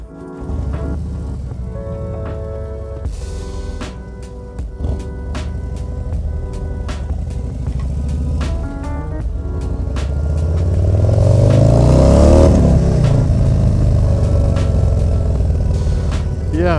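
A 2023 Harley-Davidson Low Rider ST motorcycle runs with a loud, deep, throbbing engine note, then climbs through a strong rising rev that peaks and settles back into a steady rumble under wind noise.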